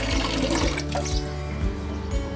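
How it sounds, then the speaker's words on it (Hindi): Water runs and splashes into a large cooking pot being filled for boiling rice, a steady loud rushing pour close by. "ये पानी हमने बड़े तपेले में लिया है, जिसमें हम चावल को बॉईल करेंगे।"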